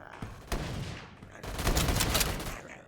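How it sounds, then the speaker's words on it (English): Shotgun blasts ring out in the VRChat video game, a sharp shot followed by a longer, louder burst of gunfire with crackling decay, close and punchy. "Man, shotguns are really strong still, Mr. Juvie."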